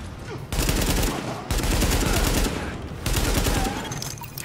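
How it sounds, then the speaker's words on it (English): Heavy machine gun fire from a rooftop gunner in Tom Clancy's The Division, loud sustained bursts of rapid shots in three long volleys separated by brief pauses. "The escort party's taking heavy fire from the roof."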